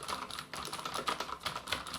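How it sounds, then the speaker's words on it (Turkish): Rapid clacky typing on an XPG Summoner gaming keyboard, close and loud, with a typewriter-like stream of distinct keystrokes and brief pauses, heard alone. "Adeta bir daktilo ile yazıyormuş gibi ses çıkartıyor klavye."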